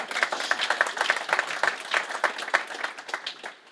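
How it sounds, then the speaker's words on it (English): Audience applause at a tech conference talk, a steady burst of many hands clapping in a hall, filling the room evenly for several seconds. "Please give me a round of applause"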